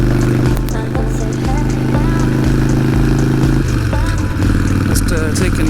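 Motorcycle ride on a short loop to run errands and get gas: a loud, steady, close engine drone with rumbling low end and clattery wind noise, holding through, shifting pitch slightly midway.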